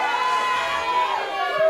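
Wrestling event crowd in an arena reacting with a steady, continuous murmur and scattered shouts, loud and sustained throughout with no clear speech.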